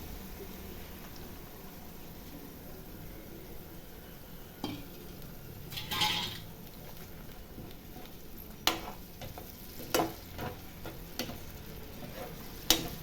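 Onions sauté in a pan for an egg and capsicum gravy, giving a soft, steady sizzle with occasional sharper clicks and scrapes of stirring against the pan.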